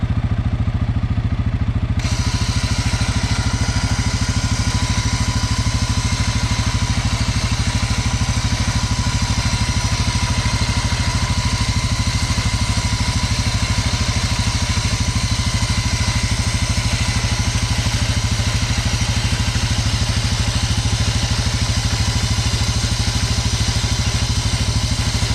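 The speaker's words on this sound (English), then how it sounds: "we're just gonna crank up the engine and winch her on in." A CF Moto ATV engine runs steadily at idle during winching, a continuous close, loud mechanical drone with faint clatter and no voices.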